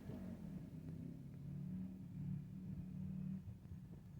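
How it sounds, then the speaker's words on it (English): A faint, low motorcycle engine drones at a distance, its pitch rising and falling as it revs a few times, with no one speaking. "Notice the motorcycle is revving every time I go to speak."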